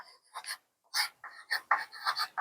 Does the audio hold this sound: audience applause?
no